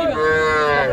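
A young bull calf at a livestock market gives one loud, close moo that swells and holds for about a second, with no talk over it.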